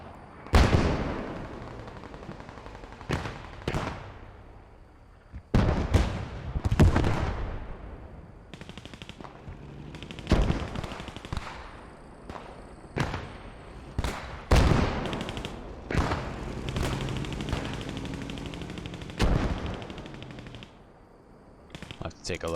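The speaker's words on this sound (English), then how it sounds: "we can see some mortars coming in from Red Devils here" Mortars landing and gunfire in a war video game, with loud repeated blasts and bursts of shooting scattered over a constant battle din, some impacts near and heavy, others farther off.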